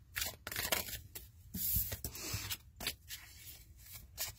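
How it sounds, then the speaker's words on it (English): Tarot cards being shuffled by hand, with soft riffling, rubbing and snapping bursts at an uneven rhythm, close and fairly quiet, no talking. "I'm just going to shuffle the cards up"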